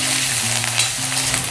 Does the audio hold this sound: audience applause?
no